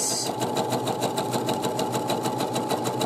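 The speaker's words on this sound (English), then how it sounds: "I'm going to stitch the last little bit." A sewing machine stitching the last stretch of a zigzagged center back seam on shorts or pajama pants, running close and loud with a fast, even rhythmic whir and needle chatter.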